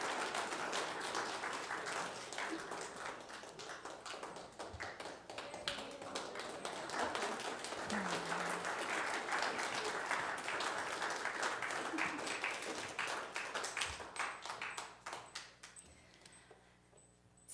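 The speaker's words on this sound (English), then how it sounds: "Let's give them a round of applause." A congregation at a Unitarian Universalist Sunday service claims the labyrinth team with a round of applause. The dense clapping holds steady and fairly loud, then thins and fades out near the end.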